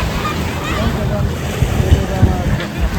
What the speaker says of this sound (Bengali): বিশাল সমুদ্র।